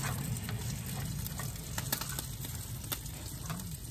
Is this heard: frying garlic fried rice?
yes